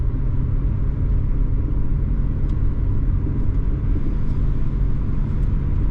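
A 2009 Pontiac Vibe heard from inside on a test drive after a brake job, a steady, loud low rumble of engine and road noise that carries on without talk.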